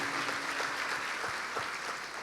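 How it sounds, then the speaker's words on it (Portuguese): Church congregation applauding in praise, a soft, fairly distant patter of many hands clapping, continuous and low in level throughout. "Se você quer, dê um aplauso ao Senhor"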